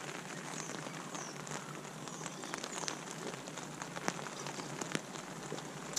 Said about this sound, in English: As you can probably hear, it's not so good out there. Not that we're going anywhere, but it is raining